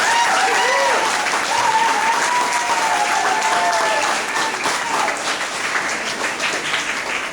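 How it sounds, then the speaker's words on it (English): A school-hall audience at a Cub Scout pack graduation and awards night gives a big round of applause for the Tiger scouts, dense and steady clapping throughout with some cheering and voices mixed in, tapering slightly near the end. "let's give a big round of applause for our Tigers"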